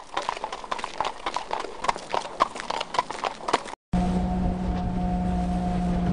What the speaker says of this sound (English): Carriage.